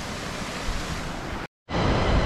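Steady broadband rush of Meko Khola, a river in Khotang, Nepal, flowing close by, loud and continuous, cut by a brief dropout near the end before resuming; no talking.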